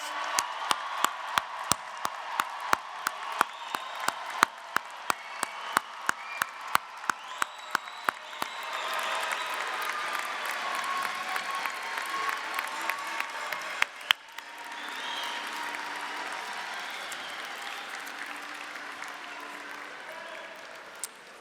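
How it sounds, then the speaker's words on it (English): Graduates and audience at the 2022 Plymouth State University undergraduate commencement applaud; isolated distinct claps open it, then a sustained crowd ovation with cheering builds, dips briefly and resumes. "let's have a round of applause for the new Plymouth State University graduates"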